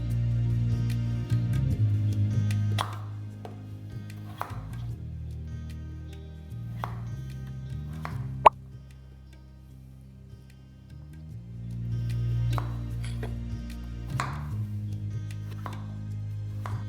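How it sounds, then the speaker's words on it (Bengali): Kitchen knife dicing a raw potato into small cubes for a masoor dal with pui shak and potato, giving a steady series of crisp chops against the board over a low background hum. "জাস্ট এইভাবে ছোটো ছোটো করে আপনাদের ডাইস করে এটাকে কেটে নিতে হবে"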